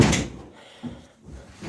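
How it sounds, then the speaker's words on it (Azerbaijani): Knocking on a door inside a home, three soft, muffled thuds spaced roughly a second apart, heard fairly close in a quiet room. "Qapı döyülür."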